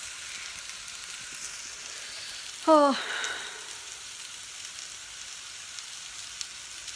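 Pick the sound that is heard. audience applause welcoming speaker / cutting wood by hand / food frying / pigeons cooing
food frying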